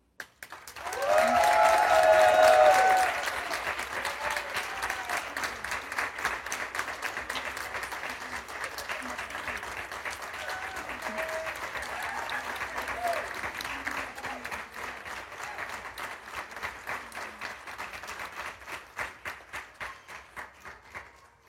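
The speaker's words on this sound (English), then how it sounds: "Please give a round of applause for Chesapeake College's newest members of Alpha Sigma Pi." Applause for the newest Alpha Sigma Pi honor society members at a Chesapeake College ceremony begins as a loud burst of many hands, then continues as steady, slightly softer clapping from the crowd for about twenty seconds before tapering off.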